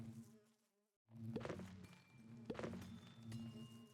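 Buzzing of bred diamond bees in a video game, a steady insect drone with a thunk mixed under the game audio.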